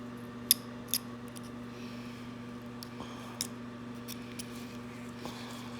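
Snips of scissors trimming a topwater popper fishing lure blank, a few soft sharp cuts spaced out over a low steady hum, close and quiet with no talking.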